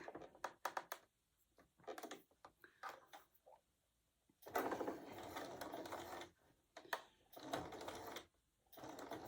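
A home sewing machine stitches down the middle of a circular napkin's brick rack, running in short bursts of rapid mechanical whirring with pauses between them, close and fairly quiet.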